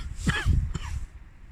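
A man gives a short throat-clearing cough, two rough close bursts in quick succession and then quiet, with no talking.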